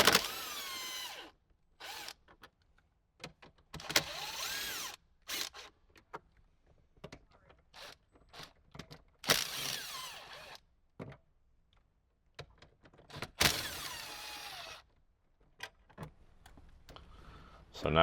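Power tool backing out four 10mm bolts holding an aftermarket radio in a Toyota Tacoma dash, several short loud whirring bursts separated by quiet gaps, with brief talk between them.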